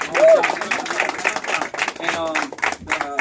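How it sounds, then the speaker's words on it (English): Clapping from an audience at a Super Saturday gathering, steady and broadband throughout, with voices talking and cheering over the claps. "let's give him a round of applause"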